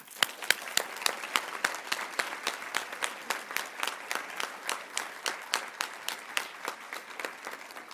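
Sustained audience applause at a women's hall of fame induction ceremony, steady rhythmic clapping from a sizeable crowd heard close and evenly throughout.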